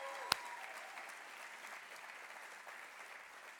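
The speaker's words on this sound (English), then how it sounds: "Catherine, I want to give you a round of applause." Audience applause fills a gala hall at an awards ceremony, a steady even patter of many hands held at moderate level throughout, with one sharp click near the start.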